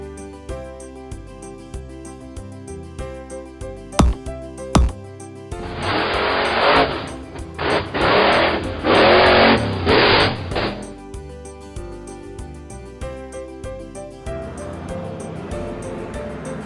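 A monster truck engine in a children's alphabet song: a string of loud, rhythmic revving bursts rises over the backing music for about five seconds, then fades back to the music.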